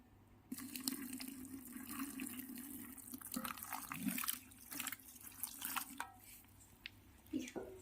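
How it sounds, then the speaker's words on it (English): Water runs and splashes onto a dry coir pith brick in an irregular, dripping trickle with soft wet pattering, fairly close and moderately loud throughout. "it seems that a brick needs a little bit of more water, so I'm adding more water"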